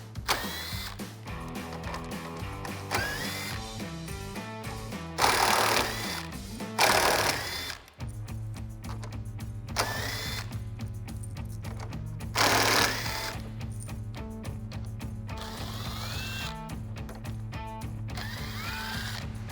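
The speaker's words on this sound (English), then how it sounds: "I'm just gonna use a 7mm socket to get those out." Steady whirring of a 7mm socket driver backing screws out of a 2015-2023 Mustang front bumper, a continuous mechanical drone with brief pauses and shifts in pitch between screws.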